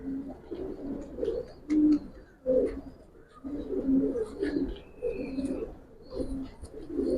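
Old-breed Giribaz pigeons, a pair of males among them, coo in short, repeated low bursts close by, with faint higher chirps and background noise scattered between the phrases.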